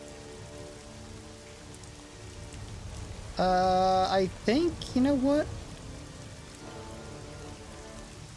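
Steady rain in a WWII naval strategy game, a constant soft hiss of falling drops throughout, briefly masked midway by a loud pitched tonal sound, with a voice speaking quietly over it.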